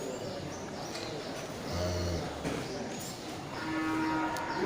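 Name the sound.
Limousin cattle mooing at cattle market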